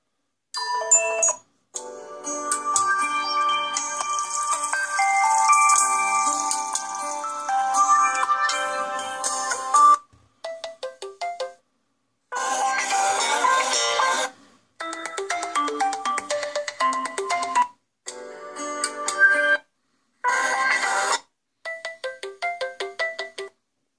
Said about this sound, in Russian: Рингтоны.